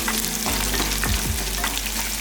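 Crushed garlic and dried chili fry in a pan for tomato dal, a loud, dense sizzle running nonstop with occasional stirring scrapes close by.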